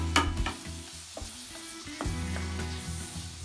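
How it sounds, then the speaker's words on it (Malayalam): Onions and slit green chilies fry in a pan with a loud steady sizzle, punctuated by several sharp scraping and clattering stirs at the start and again midway, no talking. "അതുകൂടി ഇട്ടിട്ട് നമുക്ക് നന്നായി ഇളക്കാം."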